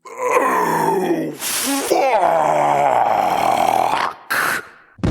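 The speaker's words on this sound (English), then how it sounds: "The throne, it's breathing." Fictional breathing throne, rendered as long, drawn-out groaning breaths rising and falling with a creaky, voice-like tone, loud and close, broken by short noisy bursts between them.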